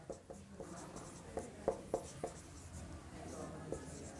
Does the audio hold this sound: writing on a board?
yes